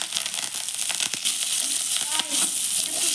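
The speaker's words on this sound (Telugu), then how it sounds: "ఈ ఆనియన్స్ కొద్దిగా ఎల్లో కలర్లోకి వచ్చే వరకు వేయించుకుందాం." Onions, cumin, two dried red chillies and curry leaves fry in hot oil for a brinjal tomato chutney, giving a steady, close sizzle with occasional crackles and stirring scrapes, no voices over it.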